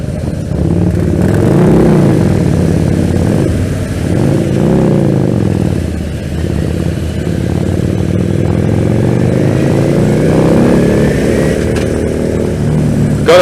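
A Harley-Davidson Ultra Limited motorcycle carries two riders on a test ride. Its engine drones steadily and close throughout, with the pitch rising and falling gently as the bike pulls away and cruises.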